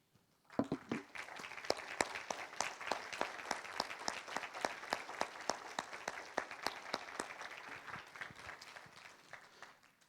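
An audience applauds former Ella Dickey Literacy Award recipients at a ceremony, a steady round of clapping from a moderate crowd that begins abruptly and holds evenly before tapering slightly.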